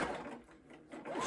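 A sewing machine runs steadily while stitching a quilt block seam, a continuous mechanical whirr that dips slightly in the middle and picks back up, close and fairly quiet.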